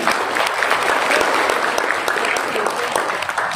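Audience applause at a seminar on data literacy for small and medium businesses: loud, dense, sustained clapping from a crowd, continuing evenly for several seconds.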